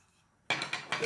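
Teak wood spoons from a twelve-piece set clatter and knock together as they are handled, a short burst of several close wooden clacks after a moment of near silence.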